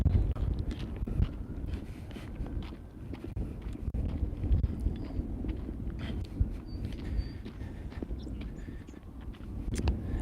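Steady outdoor wind buffets a microphone with loud low rumble for the whole stretch, broken by occasional gusty thumps and faint scattered knocks, with no talk.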